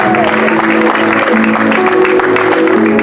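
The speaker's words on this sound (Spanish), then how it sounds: "Dale palmas al Señor" Loud, steady congregation clapping at a Spanish-language church service, praise offered to the Lord, a continuous wash of hands filling the room for the full three seconds with crowd noise and music beneath.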